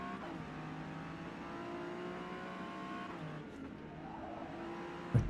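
Race car engine in a racing video game, a steady loud high revving drone with shifting pitch as the car brakes and accelerates, with a brief sharp sound near the end.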